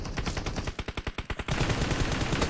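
Rapid burst of Thompson submachine gun fire in a battle-royale video game, about a dozen sharp close shots in quick rhythm, then fading into steady game ambience.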